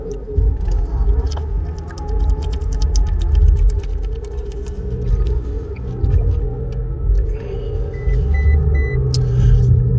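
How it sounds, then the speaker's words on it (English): A car driving on the road, a steady loud low rumble of engine and tires heard from inside the cabin, continuous throughout with no talk. "while I'm driving to the gym here"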